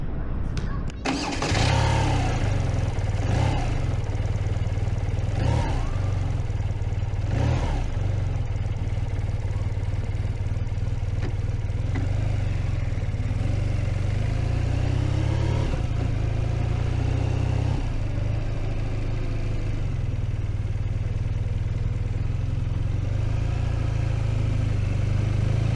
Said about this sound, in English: The first thing that stands out is the engine. This motor has plenty of character.